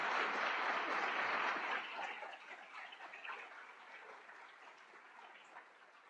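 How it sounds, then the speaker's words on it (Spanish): An audience at an economic debate in Colombia applauds, loud and dense at first, then thinning and fading into scattered claps over several seconds. "Comencemos con un aplauso para ellos"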